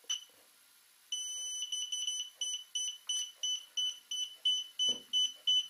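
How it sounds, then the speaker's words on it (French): A DJI Spark drone controller pairing: a run of short, high electronic beeps repeating at a steady rhythm after a long initial tone, clear and close with a quiet background. "donc là j'entends le premier bip"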